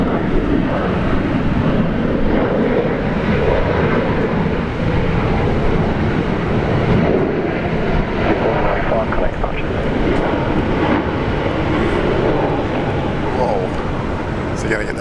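An airliner lands and brakes on the runway at Brisbane airport, its steady broadband engine roar filling the whole stretch without a break, while voices talk loosely over it.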